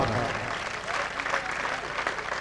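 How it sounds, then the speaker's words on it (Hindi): A crowd at an Urdu-Hindi poetry recital (shayari mushaira) claps steadily, a thick, continuous round of applause with faint voices underneath. "तालियां कमजोर है"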